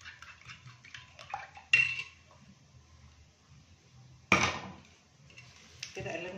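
Eggs stirred in a cooking pot with no oil, a utensil clattering and scraping against the metal in a few sharp bursts amid quieter rustling, close by with no voices.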